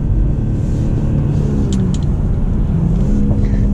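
A BMW M340i xDrive with an 8-speed torque-converter automatic pulls hard on an icy mountain road, its steady low engine rumble filling the cabin continuously throughout.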